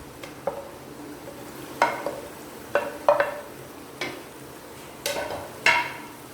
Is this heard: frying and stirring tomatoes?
yes